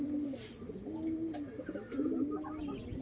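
Breeding pigeons of the Bronze War and TS1 breeds cooing close by, low repeated rolling coos in a steady sequence with faint chirps behind and no talking.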